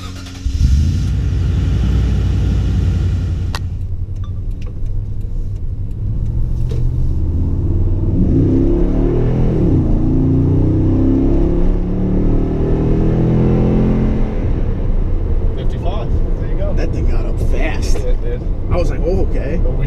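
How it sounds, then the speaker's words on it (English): A Toyota Tundra pickup in normal, non-tow/haul mode accelerates hard toward about 50 mph, its engine a loud, rising roar that swells midway and fades slightly later, heard from inside the cab. "He's going to do a non-tow haul mode pickup to about 50 miles an hour."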